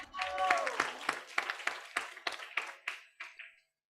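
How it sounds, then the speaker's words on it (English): A business summit audience claps, loud at first and then thinning into scattered individual claps that fade out, with a brief voice heard over the start. "We have a round of applause."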